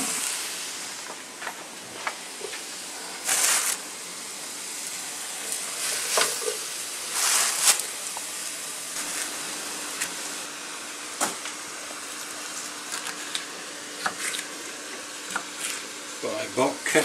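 Mushrooms frying in butter and olive oil in a pan, a steady close sizzle broken by occasional louder spits and stirring scrapes that run the whole time with no break.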